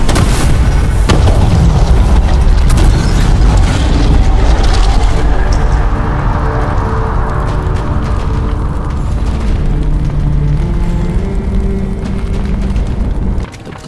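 A huge booming explosion as a blight structure is destroyed in Dragon Age: The Veilguard, a loud initial blast followed by a long rumbling roar and debris that slowly fades.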